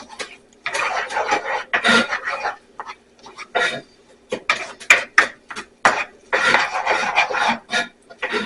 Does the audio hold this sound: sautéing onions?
yes